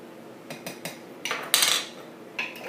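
A 4-in-1 metal spice spoon scrapes and taps against a spice jar in a few close, brisk knocks, then a longer scraping scoop and a final clink, over faint room hiss with no talking.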